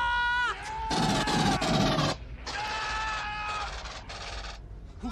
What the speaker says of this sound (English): Who's firing?